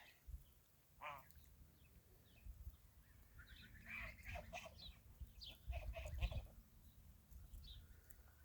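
Young teenage geese call repeatedly from a short distance while foraging eagerly on weeds in a grassy yard, with a voice speaking over the honks and brief rustling and trampling sounds.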